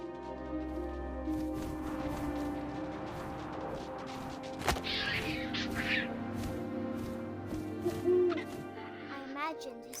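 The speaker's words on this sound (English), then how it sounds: "And suddenly, I was an owl." Owl hooting in the narrative game What Remains of Edith Finch, set among low ambient wind and game sound, with brief knocks and rustles breaking in midway.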